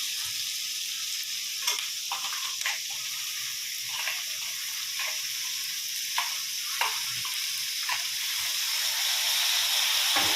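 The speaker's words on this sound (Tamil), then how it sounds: "இப்போ தக்காளி என்ன செய்யணும் நல்லா கிண்டிக்கணும்" Tomatoes sizzle gently in a frying pan as a utensil scrapes and stirs in occasional bursts, with a steady hiss throughout.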